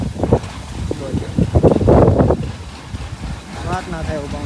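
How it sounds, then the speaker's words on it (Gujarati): Strong wind gusting across an open farm field where millet is being harvested, roaring and buffeting the microphone in loud surges, with a person talking over it. "ફૂલ જ પવન જે તમને સંભળાઈ રહ્યો"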